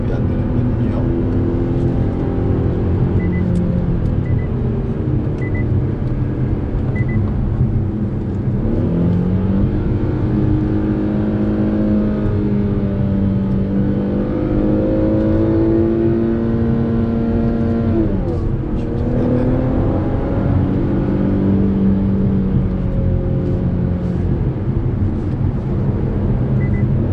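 A 400 hp Infiniti Q60S coupe in Sport Plus mode revs up through repeated pulls, its engine note climbing and dropping in long sweeps across the gears, loud and continuous from inside the car, with occasional speech beneath.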